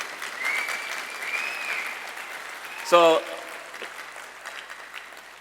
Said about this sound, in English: Please give a round of applause for this most powerful lady.